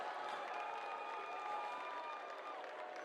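A football crowd at a high school varsity jamboree cheers and claps steadily for the punter, a distant, diffuse roar held at a moderate level for a few seconds.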